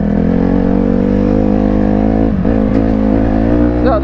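A mini bike engine idling loud and close, a steady buzzing drone that dips briefly and then picks up again in a short rev.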